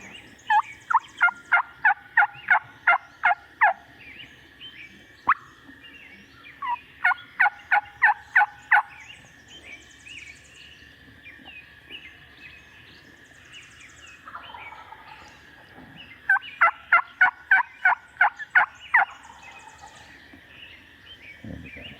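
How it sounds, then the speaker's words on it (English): A wild turkey gobbles three times in rapid rattling bursts of about eight to ten notes each, loud and fairly close against a quiet dawn woodland backdrop with soft bird calls between. "that time he gobbled, I responded and he gobbled right back"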